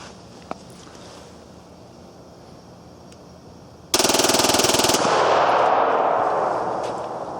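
A Glock 9mm pistol fires one loud, rapid burst of many shots lasting about a second, its ringing tail slowly fading after a quiet stretch.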